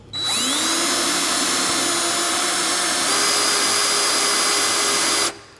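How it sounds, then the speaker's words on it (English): Power drill driving a sheetrock screw into the middle of a drywall patch, a loud continuous high whine that starts abruptly, holds steady with a slight pitch shift midway, then cuts off sharply. "let's just take one sheetrock screw and put it right through the middle"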